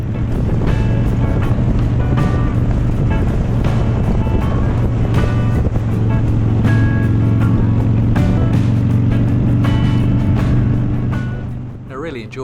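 A group of Harley-Davidson HOG motorcycles rides along Old Te Aroha Road near Gordon, New Zealand, producing a loud, steady, close engine drone that fades slightly at the end.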